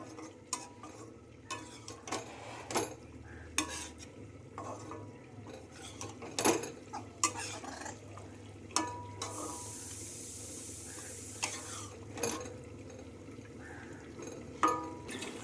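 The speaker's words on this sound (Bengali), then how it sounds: "এবারে বাঁধাকপিগুলো মশলার সঙ্গে খুব ভালোভাবে মিশিয়ে নিচ্ছি।" Boiled cabbage being mixed with spices in a pan, with repeated light scraping taps of a utensil against the pan over a soft background sizzle, close and unhurried.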